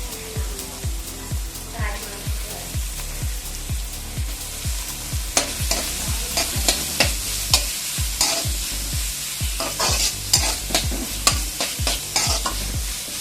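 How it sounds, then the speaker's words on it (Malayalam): Chopped shallots and onions being sautéed in a pan until browned for a Kerala-style mushroom dish. A loud, close sizzle is punctuated by steady, rhythmic spoon scrapes about twice a second. "ഇത് നല്ലതുപോലെ വഴറ്റി ബ്രൗൺ കളറാകുന്നത് വരെ നല്ലോണം വഴറ്റിയെടുക്കണം."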